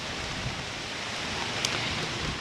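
Steady rain falling on a suburban garden in late July, a soft continuous hiss of drops with a few faint ticks, close and even throughout, no voices.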